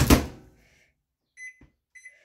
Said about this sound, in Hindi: थोड़ा जोर से दरवाज़ा बंद करना पड़ता है तो लाइट ऑफ नहीं होती इस वाले माइक्रोवेव की